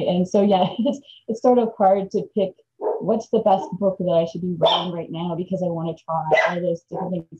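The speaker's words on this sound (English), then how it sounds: "excuse the dog in the background" A dog barks in the background of a home recording, with a few faint yips partly buried under someone talking steadily close to the microphone.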